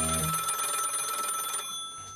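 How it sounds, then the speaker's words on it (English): A telephone ringing in 1979, steady high electronic tones sustained for about a second and a half before cutting off, with a low thump at the start. "On a random afternoon in 1979, Ridley Scott's phone rang."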